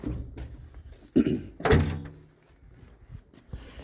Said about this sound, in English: Doors open like they should.